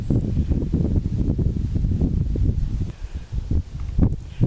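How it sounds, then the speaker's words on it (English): Wind blowing through a coppiced Kent wood and cut meadow in July, a steady close rush and buffeting on the microphone with rustling, gusting a little louder near the end. "There is wind as predicted."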